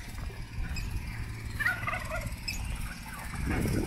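Hens cluck and gobble in short bursts at a moderate distance over a steady low background rumble, on a farm in Sonora, Mexico.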